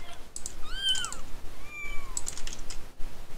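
A cat meows several times in short, rising and falling calls, fairly close, over a steady noisy background with some faint clicking like keyboard typing.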